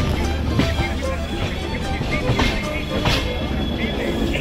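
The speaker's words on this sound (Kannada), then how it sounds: "ನಮ್ಮ ಟ್ರೈನ್ ಇವಾಗ ಪಾನಿಪತ್ ಜಂಕ್ಷನಲ್ಲಿದೆ" A long-distance passenger train on the Bengaluru to Kashmir run rumbles steadily with a low, continuous roar and scattered knocks and clatter, heard close from inside a carriage with no talking.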